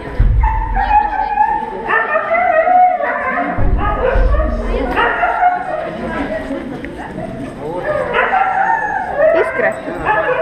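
Husky sled dogs at a husky race, barking and yipping with high whimpers and whines throughout, close and loud, mixed with people talking nearby.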